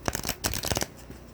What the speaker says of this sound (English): they bridge shuffle pretty well